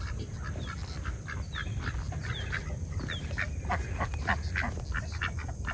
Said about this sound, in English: There's my mallard.